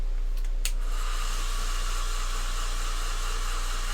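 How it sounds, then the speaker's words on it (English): A hair dryer blows to speed-dry paint on Necron miniatures, a steady loud whooshing hiss with a constant motor hum, running continuously after a couple of brief clicks at the start. "Let's hit it with the dryer for a bit."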